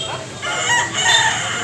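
A rooster crows once nearby in Cebu, a hoarse, drawn-out call rising and falling over a second or so against a noisy outdoor background.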